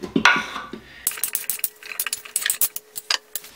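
Raw potatoes tumble into an Instant Pot of spiced onions, a string of sharp, close knocking clatters in quick irregular bursts after a brief scraping start.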